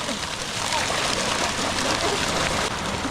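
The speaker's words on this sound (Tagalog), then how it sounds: "Malakas kasi yung tubig" Strong water rushes continuously through an earthquake-caused sinkhole in cracked concrete, a loud, dense, unbroken roar of flowing water close by.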